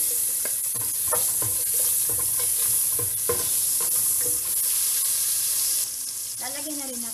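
Chopped onion sizzles in melted olive oil in a pan, a steady loud broadband frying hiss with scattered stirring clinks and scrapes, and a voice briefly heard near the end.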